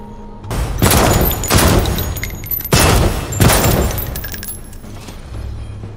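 Secondary firing mode gunfire in Defector VR: several heavy, loud bursts of fire in quick clusters, each with a booming crack and metallic rattle, separated by brief gaps and trailing off near the end.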